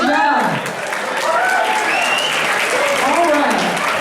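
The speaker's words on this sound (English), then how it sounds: "Let's give a round of applause," Wedding guests at a reception applaud after a toast, with loud, sustained clapping close by and voices calling and cheering on top of it.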